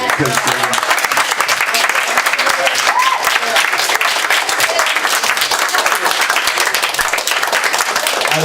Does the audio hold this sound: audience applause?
yes